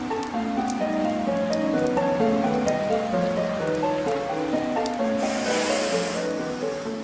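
Steady rain falls continuously over a full seven seconds, a dense even patter with a brief brighter hiss of heavier drops near the end, with no voices.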